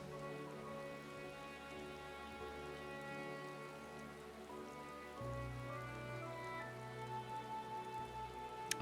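Steady rain falling in the Final Fantasy XIV Endwalker video game, a soft continuous patter under quiet background game music, faint and even throughout.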